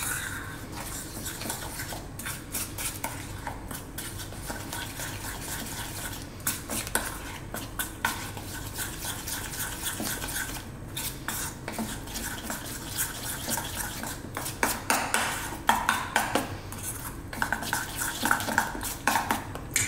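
Cauliflower pakora batter being stirred in a bowl with cold water added, a steady clinking and scraping of utensil against the bowl running throughout, busier and louder in the last few seconds, with no talking.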